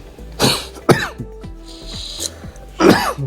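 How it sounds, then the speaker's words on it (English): Several close, harsh coughs in quick succession, a short pause, then one more hacking cough. "I've got a cough"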